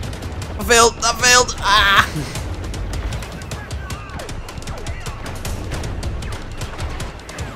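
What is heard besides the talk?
pistol gunfire in Star Wars Battlefront video game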